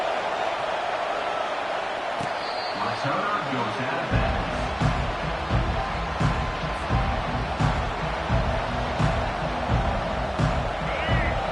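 A video game crowd roars throughout an NCAA/Madden college football rivalry game, a dense, continuous stadium din under play-by-play commentary with occasional sharper thuds.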